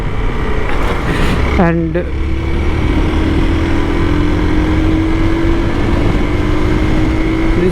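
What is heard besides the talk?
Hero Xpulse 200 motorcycle riding off-road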